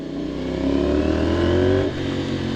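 A crossplane motorcycle engine with an SC-Project small canister exhaust rumbles close by, revving up briefly to a higher pitch and then dropping back to a low idle.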